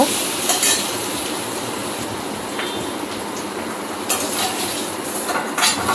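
Fried potatoes are scooped out of a hot pan of oil, a dense crackling sizzle with a few metallic clinks and scrapes of a utensil against the pan, close and without speech.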